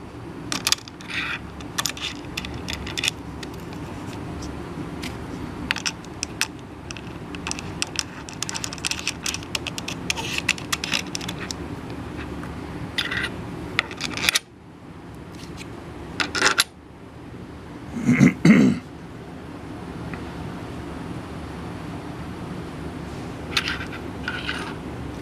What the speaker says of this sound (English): screwing the threaded rod into it